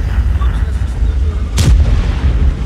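A single heavy tank artillery shot booms out in World of Tanks gameplay, a sharp loud blast with a brief rumbling tail over a steady low engine drone.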